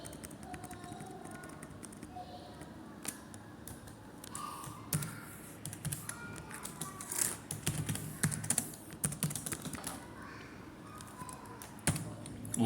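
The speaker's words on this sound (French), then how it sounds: "On vient saisir dans la zone de recherche" Rapid keystrokes clatter on a computer keyboard as text is entered into a search field, irregular close clicks in short bursts over a quiet room with faint voice.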